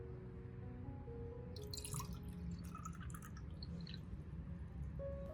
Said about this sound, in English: I'll water the orchid's base with the prepared organic fertilizer solution.